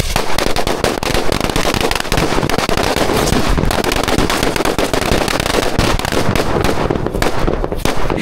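Nattu Vedi country firecrackers of the Kodai Idi type go off in a dense, nonstop barrage of loud cracks and booms, close and harsh, sustained for over eight seconds without pause.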